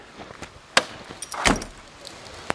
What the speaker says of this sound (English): Key in the hand, open the door